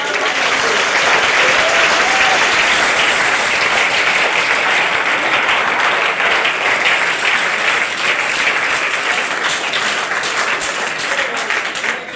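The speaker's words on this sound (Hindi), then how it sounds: "इन सभी लोगों के लिए जोरदार ताली।" Loud, sustained applause from a large audience at a motivational class, dense steady clapping filling the whole stretch without a break.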